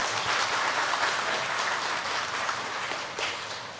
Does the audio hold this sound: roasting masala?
no